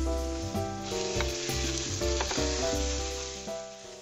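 Minced garlic and finely chopped onion fry on high heat in olive oil, giving a constant close sizzle with occasional stirring scrapes under sustained background music; no one speaks.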